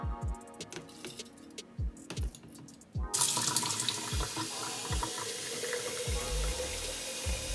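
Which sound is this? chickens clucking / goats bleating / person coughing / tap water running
tap water running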